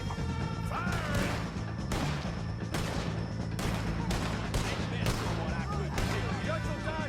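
Heavy gunfire in Red Dead Redemption 2 during a story shootout with O'Driscoll gang members: repeated loud close shots and crashing impacts, layered over steady music and shouting voices throughout.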